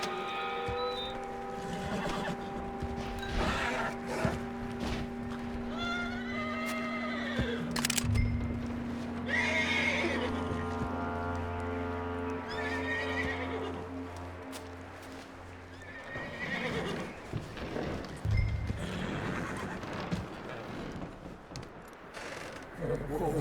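Horse neighing and whinnying with clip-clopping hooves in Red Dead Redemption 2, a few loud neighs over a steady mechanical hum and game ambience, with hoof steps near and some voices.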